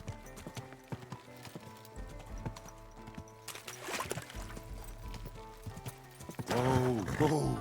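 Steady clip-clop of horse hooves on a hard surface with background music, ending with a loud horse whinny, in the video game Kingdom Come: Deliverance II.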